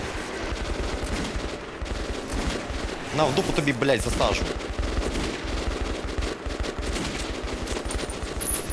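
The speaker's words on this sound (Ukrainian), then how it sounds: "Стріляють, пацани." Rapid, continuous gunfire in the video game Metro 2033 Redux rattles throughout, a dense automatic volley with someone speaking briefly over it midway.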